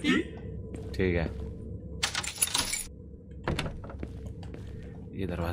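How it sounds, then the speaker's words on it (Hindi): A door in a horror video game creaking and closing, with a couple of short wooden knocks and a rattle heard between stretches of a person talking over in-game sounds. "ये दरवाजा करते हैं बंद।"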